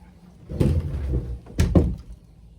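A bathroom door in a home being closed, heard as a dull shuffle, then a sharp thunk and a second knock as it shuts, fairly close and with no talk over it.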